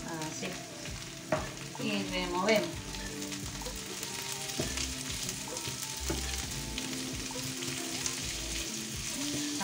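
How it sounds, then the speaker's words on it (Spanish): Bacon frying in a pan, a continuous sizzle with spatula scrapes and stirring knocks, a few louder clatters near the start, and a faint brief voice. "vamos a freír un poquito el bacon así"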